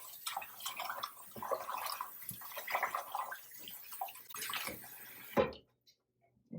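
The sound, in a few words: rinsing black-eyed peas with fresh water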